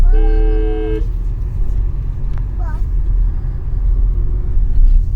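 A car horn sounds in one sustained blast over the low rumble of an idling engine, followed by a brief second toot.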